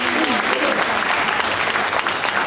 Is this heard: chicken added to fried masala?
no